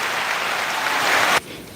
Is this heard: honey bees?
no